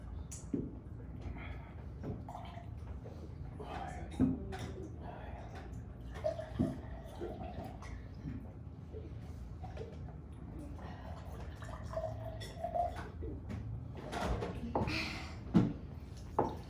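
Drink being poured into the fourth cup at a Christian Passover seder meal, a soft liquid splash and trickle under steady conversation and light tabletop clinks.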